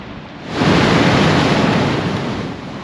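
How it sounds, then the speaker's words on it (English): A sudden gush of wind and surging air at the coast swells into a loud, broad roar, holds for about two seconds and then eases off, with no talking. "when it comes you can just see the gush of wind"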